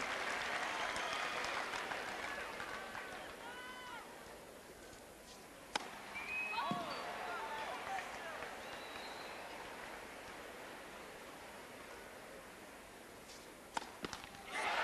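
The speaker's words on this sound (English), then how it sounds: "Listen to the crowd's joy" Tennis crowd applauding Edberg's win against Krajicek in 1996, a sustained wash of clapping that fades gradually, with a few isolated sharp claps and faint calls near the end.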